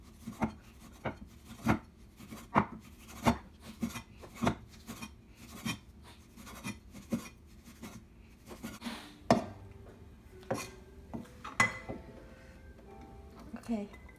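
Homemade bacon sliced thin with a knife on a cutting board, giving a steady run of sharp chopping taps, close and fairly loud, with brief pauses between bursts.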